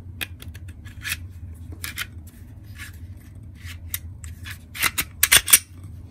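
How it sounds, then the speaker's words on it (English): A Glock 48 pistol being put back together after a night-sight install: a string of sharp, close metallic clicks and small rattles, sparse at first and then clustering into louder snaps toward the end. "Let's put this gun back together real quick"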